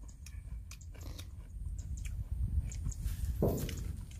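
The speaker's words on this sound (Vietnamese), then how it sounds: "Nhai rau nghe rột rột luôn á." Close, crisp crunching of a fresh herb and vegetable wrap with foil-grilled eel, eaten outdoors in the countryside, with steady repeated bites and chews and no talk.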